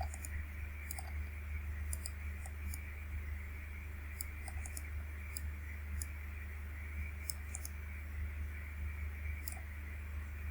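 Soft, sparse mouse clicks from a computer running CATIA V5 surface-design software, scattered irregularly over a steady low electrical hum with no talking.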